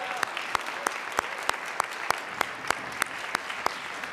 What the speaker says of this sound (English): we give a big round of applause for our law enforcement folks